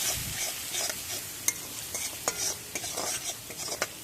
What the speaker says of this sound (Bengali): এবার এই মশলাটাকে আমি ভালো করে কষিয়ে নেব।